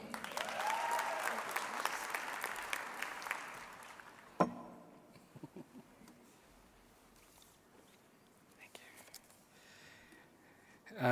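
Graduation ceremony audience applauds a graduate, a steady moderate clapping for about four seconds that stops abruptly, followed by quieter room noise with faint murmurs and scattered movement.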